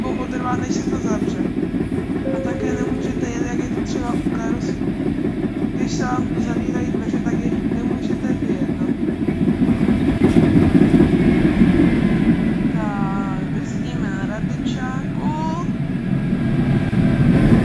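A tram in the SIMT tram simulator runs along its route with a steady low rumble and faint rail clatter, heard continuously under a dense mechanical hum that swells slightly toward the middle and end.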